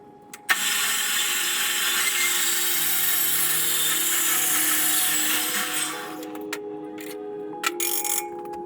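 A bandsaw cuts through a metal pipe for a Miata fabrication job with a loud, steady grinding whine that lasts several seconds, then stops and leaves a few clanks and knocks.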